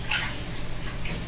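Water sloshes and splashes steadily as a dog is bathed in a bathtub, a continuous wet wash of sound close by with no voices.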